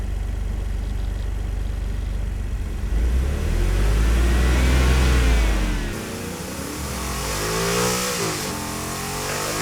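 A car engine revs up close, rising into a loud, deep roar that holds for a few seconds, then drops away before a second, higher revving swell near the end.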